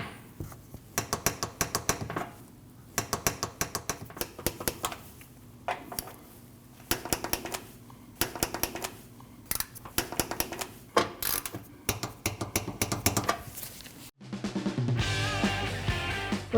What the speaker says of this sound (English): You want to torque all these bolts down to 35 foot-pounds.